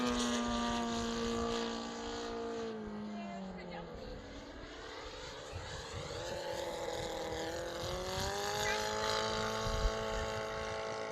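A large RC airplane flying a barrel roll gives a loud, buzzing propeller drone whose pitch dips and then climbs again as it turns through the manoeuvre.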